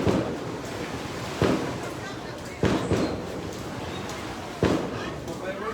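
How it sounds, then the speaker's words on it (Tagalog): A fireworks display in Dubai booms from a distance, with three separate blasts spaced a second or two apart over a constant crowd murmur. "Fireworks pala sila Dubai."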